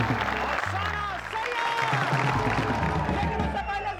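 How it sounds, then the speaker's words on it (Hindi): A studio audience on a Hindi comedy show greets an arriving guest with loud applause and some cheering. A voice runs over the clapping for most of its length. "जोरदार तालियों से स्वागत कीजिए"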